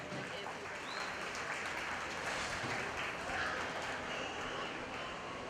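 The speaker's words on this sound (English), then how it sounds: "Let's give these young exhibitors a big round of applause" Distant, faint crowd applause at a county fair 4-H and FFA market lamb show for young exhibitors, a steady soft patter of clapping spread evenly through the whole stretch, with background murmur.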